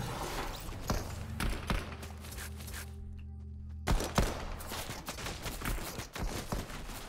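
Gunfire in the Fortnite video game, rapid clusters of sharp shot cracks spread through the clip with a short quiet gap in the middle, mixed with faint game effects.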